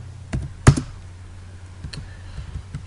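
A few keystrokes on a computer keyboard entering values in AutoCAD Civil 3D, with sparse taps, one sharp louder strike and quieter clicks after it.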